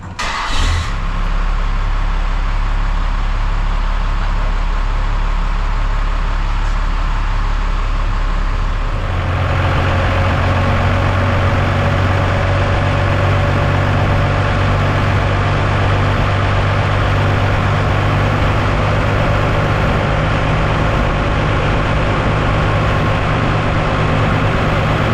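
Diesel engine during a tachometer test, idling low at first, then stepping up to a higher steady drone that holds loud and close to the end, with no voices.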